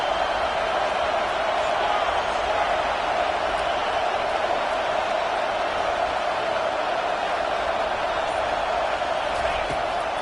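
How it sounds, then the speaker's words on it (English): American football stadium crowd roaring on third down, a constant, loud, wall-like roar of thousands of voices that stays steady and unbroken for the whole stretch. "Decibels rising as the crowd gets behind this defense on third down."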